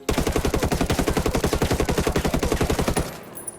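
Sustained full-auto burst from an Mk16 rifle in a video game, roughly three seconds of rapid, evenly spaced loud shots that stop abruptly, leaving a quiet tail.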